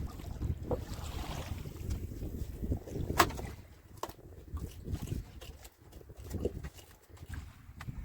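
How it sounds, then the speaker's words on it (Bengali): Gusty wind buffets the microphone outdoors over a river in the Sundarbans, rising and falling in uneven rumbling waves, with faint knocks from a fishing boat. "আজকের নদী কিন্তু অন্য দিনের মতো না ব্যাপক হাওয়া রয়েছে"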